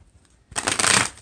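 A quick burst of tarot card shuffling, a riffling flutter that starts after a brief quiet moment and runs about a second, fairly close and clear.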